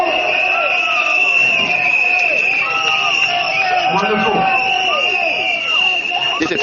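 A large crowd at an SDP election rally at Jurong West Stadium keeps up a steady, loud roar of cheering and babble, with horns or whistles sounding throughout.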